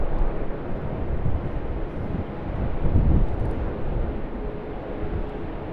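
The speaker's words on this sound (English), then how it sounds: "a nice view of this Rex Boeing 737-800 making its way down for a departure on runways 25" Rex Boeing 737-800 airliner taxiing toward a runway for departure at Sydney Airport, a steady low jet rumble heard from a distance with wind buffeting the microphone and no voices.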